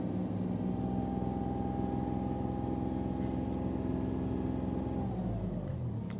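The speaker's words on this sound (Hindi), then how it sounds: "आप नोटिस कर सकते हैं इंजन की जो नॉइज़ है" Tata Tiago petrol engine revving hard at high RPM near full throttle, heard from inside the cabin: a steady loud droning hum with a rising whine, easing off and dropping near the end, no talking.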